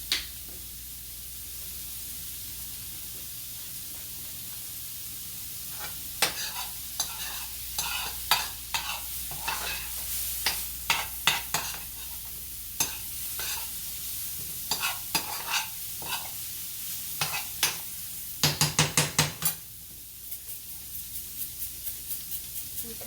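Shrimp fried rice sizzling in a hot pan under a constant hiss, with a spatula scraping and tapping the pan in quick repeated strokes, bunching into a rapid burst near the end, close and fairly loud.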